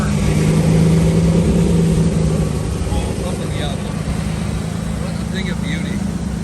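Lamborghini Diablo V12 engine idling after a major overhaul: a loud, steady, smooth low rumble that holds even throughout, close by with no talking.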